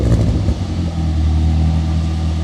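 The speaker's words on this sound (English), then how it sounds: "Give us some revs." A Ford Fusion ST with a newly fitted exhaust idles loudly close by, then revs briefly, holding a steady deep drone.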